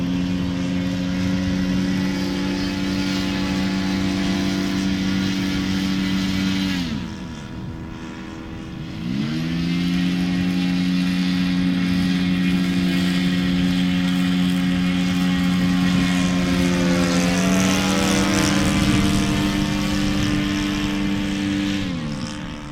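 A radio-controlled Seagull Ugly Stick model airplane flies overhead, its small engine giving a loud, steady buzzing drone that dips briefly in pitch and volume, then returns and shifts as the plane passes.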